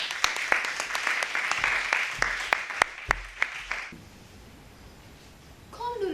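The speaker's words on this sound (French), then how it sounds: "On applaudit." Audience applause at a French eloquence contest, a run of crisp individual claps over a dense clapping wash that stops abruptly partway, leaving quiet room tone before a voice begins.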